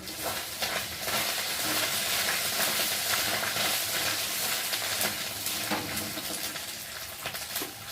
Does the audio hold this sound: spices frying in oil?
yes